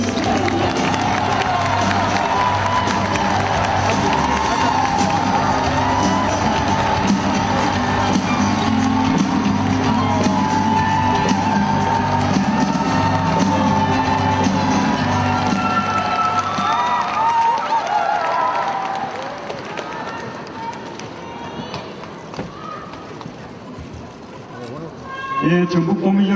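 A large crowd cheers and applauds as a speaker is welcomed onto the stage at a Jeonbuk political forum launch rally, loud roaring noise with shouts that thins toward the end, then fresh clapping.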